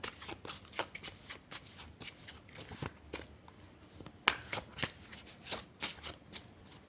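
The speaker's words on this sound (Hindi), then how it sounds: "क्विकली हम वर्गो के लिए कार्ड्स को शफल कर लेते हैं।" Tarot cards being shuffled by hand, a steady run of crisp riffling bursts and soft slaps, fairly close and alone with no talking.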